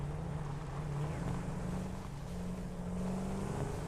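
Tractor driving in the game Satisfactory, a steady droning engine hum with a rough, constant rumble and wind-like wash, holding even throughout.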